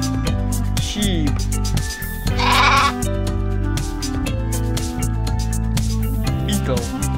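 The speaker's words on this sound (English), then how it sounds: "Sheep." Sheep bleat loudly and close up in a series of wavering, drawn-out calls, with strong harmonic cries overlapping one another throughout.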